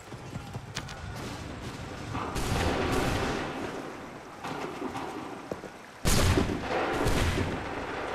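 Musket volleys go off in a battle in Assassin's Creed 3. Heavy booming shots burst out in separate clusters with rumbling tails over a busy battlefield backdrop, and the loudest volley comes late.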